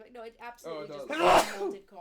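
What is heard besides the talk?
sneeze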